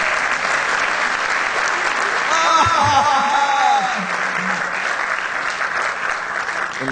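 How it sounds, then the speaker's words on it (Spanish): Concert audience applause, steady dense clapping that swells briefly midway with a whoop or cheer, then carries on at an even level. "Un aplauso bien fuerte"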